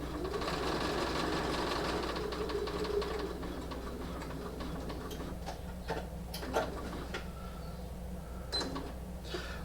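A sewing machine stitches French fold bias binding onto a quilt, its needle ticking in a fast, even run, then slowing to separate taps and clicks as the quilt is pivoted at a corner, with no voices.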